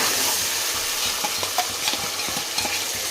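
Garlic, ginger and tomato paste fry in hot oil, mushroom biryani base, with a loud, continuous sizzle close by. A spoon stirs and scrapes in irregular strokes, and there is no talking.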